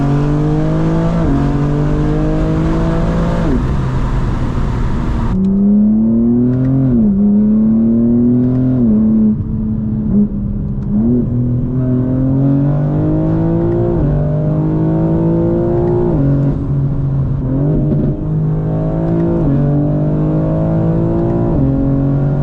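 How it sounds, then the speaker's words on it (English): A BMW M4 G82 with catless downpipes and air intakes pulls hard through the gears, with a rising turbo whistle and whoosh riding over the loud, steady engine drone; no talking. "This turbo spool, you hear it so much more."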